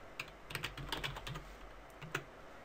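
Quick, irregular keystrokes on a computer keyboard while entering a user email into a Git setup in the Eclipse IDE, close and fairly quiet, a short burst of clicks with brief pauses and no talking.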